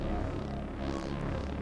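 Granular grains from Lemondrop and West Pest synthesizers form a dense, throbbing drone, a steady wash of layered tones that swells slightly in the middle with no voices over it.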